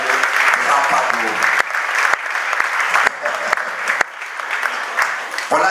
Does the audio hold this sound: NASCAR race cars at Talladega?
no